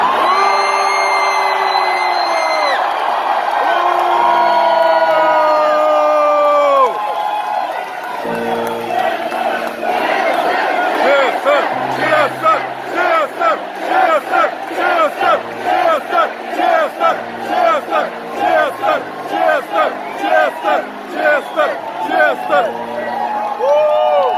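A large concert crowd roars with loud cheers and shouts for a performer, building into rhythmic chanting and clapping that pulses steadily.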